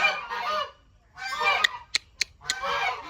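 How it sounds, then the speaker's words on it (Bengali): A goose honks several times nearby, loud nasal calls in bursts with a few sharp short honks between them. "ও মা রাজহাঁস"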